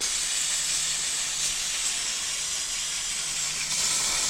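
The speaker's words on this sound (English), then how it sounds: "Let's get some EGR cleaner on it." EGR carb cleaner sprays from an aerosol can onto a boat engine: a loud, continuous close hiss held steady throughout, with no talk.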